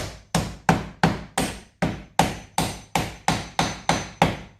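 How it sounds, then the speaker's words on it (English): An old hammer, struck with its back, taps a part into place on a car that won't start, eleven sharp metallic knocks at a steady, close rhythm, each ringing briefly before the next. "I got my old hammer here. I'm going to use the back of it and just do this."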